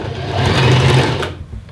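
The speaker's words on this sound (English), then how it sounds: "So I'm going to stitch down the raglan sleeve and underneath the armpit, attaching the sleeve onto the back." A sewing machine straight-stitches a raglan sleeve on a faux fur jacket, a close, loud whirring run that swells and then stops abruptly.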